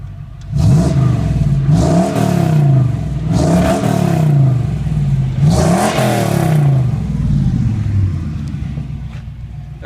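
A car engine fitted with a new dual exhaust, loud and close, with a deep idle broken by three strong revving surges that rise and fall about every two seconds, no talk.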